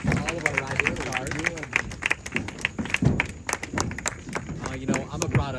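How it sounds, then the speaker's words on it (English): Round of hand clapping from an audience at an outdoor school ceremony under a hot sun, uneven claps continuing while someone speaks over them. "Let's do one final round of applause."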